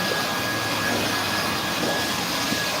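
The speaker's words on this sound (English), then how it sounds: "Oh, he's gonna bring out the blower." Leaf blower roaring steadily outdoors on a street, a loud continuous airy whine with no break, no voices over it.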